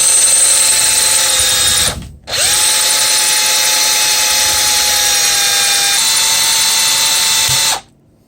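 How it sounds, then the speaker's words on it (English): A power drill bores out stripped stainless steel screws on a T-Maxx RC truck bulkhead. The loud, close, steady high whine runs in two long bursts with a short stop between them. "And we're just going to drill this out."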